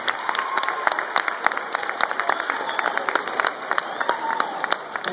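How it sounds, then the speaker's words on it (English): Audience applause at a school assembly: scattered, uneven clapping with sharp individual claps popping out over a steady crowd wash, lasting throughout at moderate loudness with some murmuring voices mixed in. "You have to give Miss Alex a round of applause for putting on such a wonderful event."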